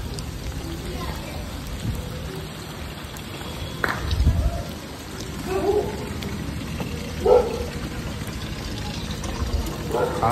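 Heavy rain pours down steadily in a constant dense hiss, with a few louder splashes and thumps breaking through now and then.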